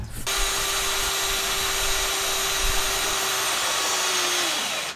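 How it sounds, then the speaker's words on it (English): A power drill bores a small pilot hole through a camper van's metal roof, giving a steady, loud, close whine that holds one even pitch for several seconds before stopping abruptly. "So first I need to drill a little hole."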